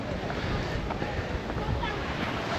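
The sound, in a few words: wind on the coastal path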